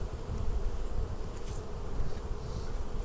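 Honey bees hum and buzz in a dense, continuous drone close around a hive during fall management, with no voices over them.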